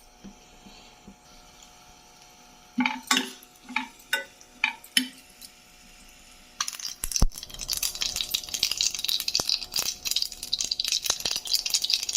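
Onions and green chillies tempering in hot oil in a pan: a few sharp clinks and stirring knocks at first, then a loud, steady sizzle that holds to the end.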